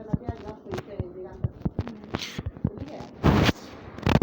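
Gunfire in a shooting video game: a rapid series of sharp, separate shots at close range, then a louder, denser burst toward the end.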